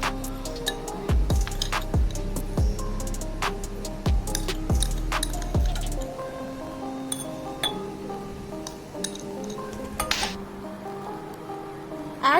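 A spoon stirring chalk powder into water in a glass, sharp repeated clinks against the glass, regular at first and then sparser with scattered ticks and taps.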